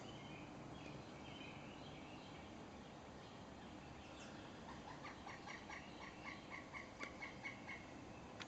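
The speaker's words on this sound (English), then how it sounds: "There you hear the call." A pileated woodpecker calls in woodland, a faint series of rapid high-pitched notes rising out of steady background hiss toward the end.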